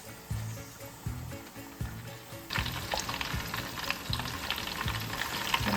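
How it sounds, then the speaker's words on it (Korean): Fish cakes frying in hot oil give a steady crackling sizzle, with rhythmic low clunks from stirring or moving them in the pan that grow busier and brighter partway through; no one speaks. "밀가루 어묵을 튀겼을 때 훨씬 맛있긴 한데 바싹 튀겨주세요"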